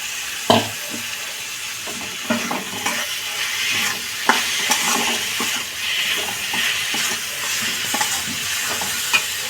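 Grated capsicum being stirred into a frying gravy for pumpkin kofta curry, a steady sizzle and hiss with repeated scraping stir strokes close up, no talking.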